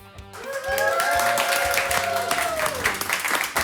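A studio audience at a live tech talk show bursts into applause mixed with whoops and cheers, rising quickly and holding a steady, close clapping roar for a few seconds.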